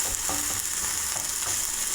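Tomatoes fry in a pan while being stirred, a continuous close sizzling hiss with soft scraping movements running through the short stretch, no talking.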